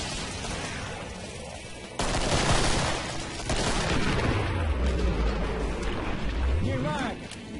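Weapon fire in the Killing Floor video game, with bursts of gunshots and a rapid volley of reports ringing out, followed by rumbling, sweeping effects while a player's voice talks over the action.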